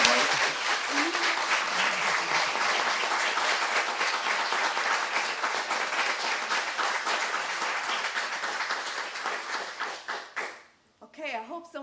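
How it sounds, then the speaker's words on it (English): An audience gives a round of applause for a scientist at a festival conversation event; thick, steady clapping sustained for about ten seconds, then fading out as a voice begins to speak. "I want to give him a round of applause."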